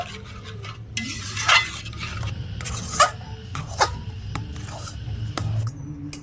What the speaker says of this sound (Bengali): এবার ভালো করে আমি নেড়ে ছেড়ে একটা ডোয়ের মতন বানিয়ে নেব